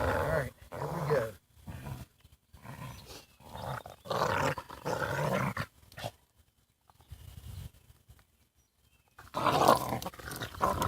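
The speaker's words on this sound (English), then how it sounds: "Yep, dogs are having fun." Dogs playing nearby with bursts of growling and rough snarling, coming in uneven clusters separated by brief quiet gaps, fairly faint and distant, with a louder flurry near the end.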